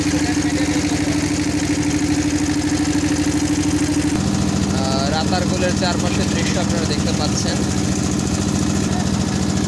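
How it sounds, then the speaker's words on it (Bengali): A boat engine drones steadily and loudly throughout a ride through the Ratargul swamp forest, with someone talking continuously over the constant mechanical rumble. "নৌকার ইঞ্জিনের শব্দের কারণে আমার বর্ণনা হয়তো ভালোভাবে বোঝা যাচ্ছে না।"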